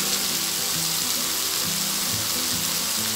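Bean sprouts fry in a hot pan with tofu, making a loud, dense, continuous sizzle and hiss, close and steady throughout.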